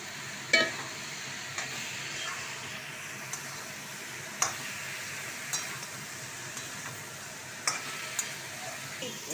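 Potatoes stirred into a spice paste frying in oil for baby aloo dum, with a low continuous sizzle and sparse sharp clinks of a spoon against the pan, fairly quiet and without speech.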